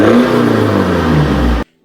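A loud, raspy BMW E90 engine with a resonator-deleted exhaust revs hard close by, pitch sliding as it roars, then cuts off abruptly into silence.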